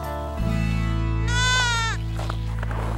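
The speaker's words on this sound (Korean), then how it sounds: "그와 함께 산을 오르는 300마리가 넘는 양과 염소들." A large flock of sheep and goats, over three hundred animals climbing a mountain, with one loud, close, wavering bleat rising over a steady low rumble and fainter calls from the herd around it.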